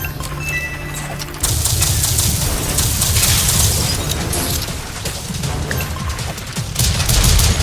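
Game gunfire rattles through a boss fight in Rise & Shine as dense bursts of shots mixed with heavy booms and explosions. The firing is loud and continuous and grows more intense after the first couple of seconds, with no speech.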